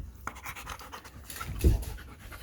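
Young dog panting in a home, soft, rapid breaths close by with a brief thump partway through.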